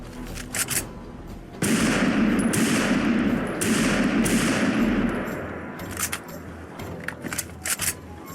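Cowboy Carbine semi-auto rifle, modeled on the Winchester Model 1907, fires in Fallout 4: scattered sharp shots, then a dense sustained burst of gunfire, followed by more irregular loud reports.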